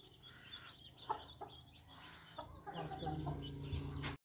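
A desi rooster clucks in short, irregular bursts nearby, with other farmyard fowl and faint background activity around it, rising to a busier scuffle near the end.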